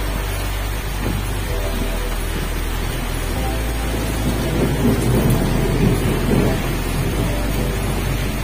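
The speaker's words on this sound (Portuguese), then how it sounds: "Olha que delícia de chuva, gente. Tá bem forte" Heavy rain pours down in a dense, steady hiss, while low thunder rolls and rumbles underneath and swells toward the middle.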